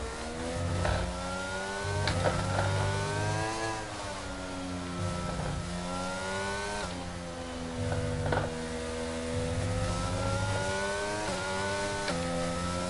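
A Formula 1 race car engine in the F1 22 video game at Hungary screams and shifts through gears, revving up and down repeatedly in a steady, loud, sustained whine.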